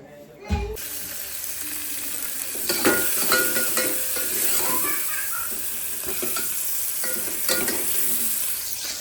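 Chicken fries in a pan at home, a steady sizzle with scraping and stirring clatter from a spatula throughout, close and fairly loud, with no talking.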